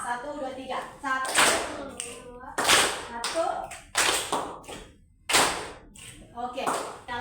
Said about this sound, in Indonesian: tepuk 1 kali, jentik 1 kali, tepuk 1 kali lagi